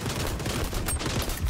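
Dense, continuous light-machine-gun fire from a first-person shooter match in XDefiant. The bursts run close and loud with no pauses and no talking.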